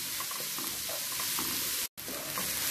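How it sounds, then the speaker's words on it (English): Onions sauté in a pan for a dhaba-style paneer methi dish, a steady close sizzle broken by scraping stirs, with one brief cut to silence. "Here we have to saute onions for 4 to 5 minutes until dark brown."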